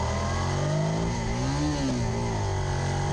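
A Suzuki SV650S V-twin knocked into neutral on a trackday circuit at Blackhawk Farms screams in a loud, sustained rev, its pitch rising and wavering without any voices.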